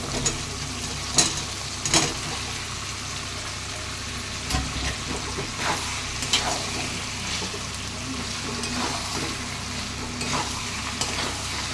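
New potatoes go into a pan of spiced mutton fat for a curry, setting off a steady, close hiss of frying with occasional clacks of stirring and scraping throughout.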